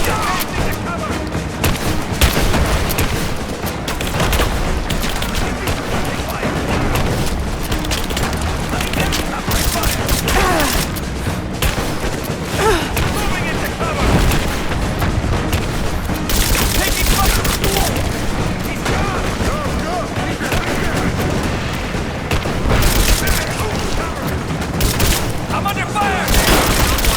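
Gunfire rages throughout a Rise of the Tomb Raider combat scene: a dense, loud, continuous barrage of shots, bursts and impacts with hardly a pause, while voices in the game shout orders over the fighting.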